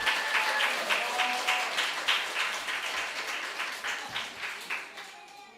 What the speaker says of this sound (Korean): 환영의 큰 박수 부탁드립니다.